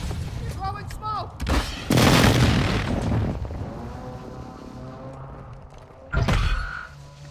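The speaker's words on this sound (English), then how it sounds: "Precision airstrike inbound." Precision airstrike explosions in Call of Duty Modern Warfare II boom loudly in two separate heavy blasts, the first rolling on for a while, with faint voices and game chatter around them.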